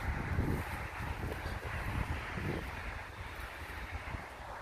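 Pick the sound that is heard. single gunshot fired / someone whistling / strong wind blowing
strong wind blowing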